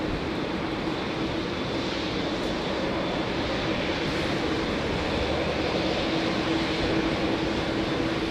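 An Emirates airliner is pushed back at an airport, a steady broadband jet engine roar with a low whine, distant and constant, no voices.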